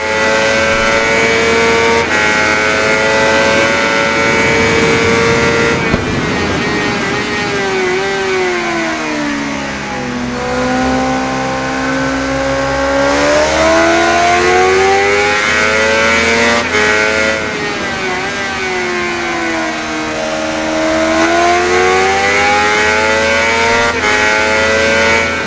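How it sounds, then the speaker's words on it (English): A 2019 Kawasaki Ninja ZX6R with a 636 cc inline-4 engine revs in the RIDE video game, a continuous high-pitched engine note rising and falling through gear changes, loud and steady throughout with no talking. "The 2019 Ninja ZX6R is powered by a 636 cubic centimeter inline-4 engine"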